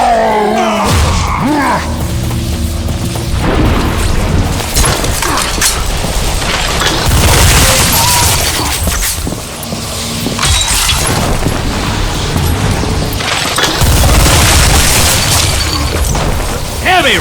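Nonstop gunfire and explosions in the video game Bulletstorm, a loud, dense, continuous barrage of blasts, shattering impacts and booms with brief surging peaks, voices faintly mixed in.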